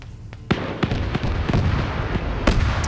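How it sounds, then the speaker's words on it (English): An autocannon fires during a US versus China PvP match in a military video game: a rapid, uneven series of loud, sharp booming shots with echoing tails, close and dense. "autocannon just sniped the one dude over here in the corner"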